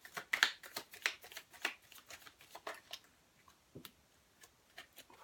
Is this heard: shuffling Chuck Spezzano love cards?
yes